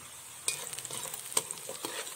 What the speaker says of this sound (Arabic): هسيب بقى البصله دي تتحمر معاكم